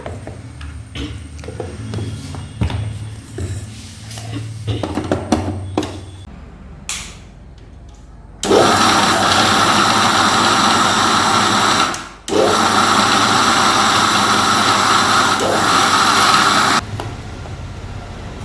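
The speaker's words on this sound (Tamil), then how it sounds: "நம்ம இதை வந்து பிளெண்ட் பண்ணிக்கலாம்." Electric blender whirring loudly as it blends a sesame ball mixture of just two ingredients, a steady high motor drone running for several seconds, briefly cutting out, then resuming before stopping, after quieter kitchen clatter.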